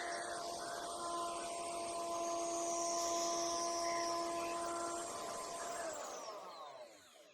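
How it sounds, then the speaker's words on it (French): A router fitted with a 5 mm bit cuts a 10 mm pass in wood for a workbench, a loud, steady high-pitched whine held for several seconds before spinning down at the end, with no talk. "je vais refaire une passe à 10 mm avec la même fraise de 5, et ensuite avec la fraise à queue d'aronde"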